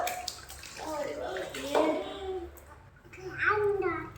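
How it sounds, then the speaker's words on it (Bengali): Water poured over a child's head during a bath at home, a soft splashing wash running under an adult's and a child's chatter, loudest in short bursts near the end. "দেখি তো মাথায় জল দিই।"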